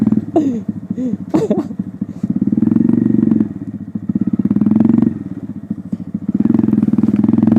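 A motorcycle fitted with an aftermarket SC exhaust revs hard close by, three sustained throaty bursts of engine roar separated by brief drops to a rough, popping idle.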